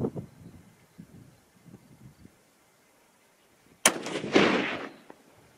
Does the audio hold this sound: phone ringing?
no